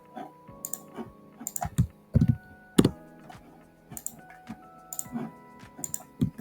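Computer keyboard typing up close, with irregular clusters of sharp key clicks and a few heavier keystrokes like an enter press, fairly loud against a quiet background.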